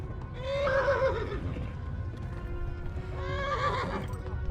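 A horse in the medieval game Kingdom Come: Deliverance gives two loud, shrill whinnies a few seconds apart, over a low rumble of galloping hooves.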